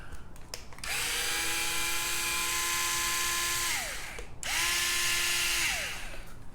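Power drill spinning out screws from an Arrma Granite 4x4 RC car chassis: two close, high-pitched whirring bursts of a few seconds each, whining down as each screw releases, with faint clicks before.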